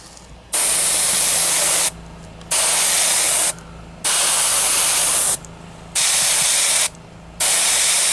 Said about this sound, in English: So I'm gonna start airbrushing